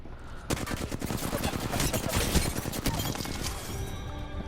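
Rapid automatic gunfire in the Apex Legends Arenas video game, a dense, continuous burst of loud cracking shots from an opponent firing down from above, with clattering impacts and no talk.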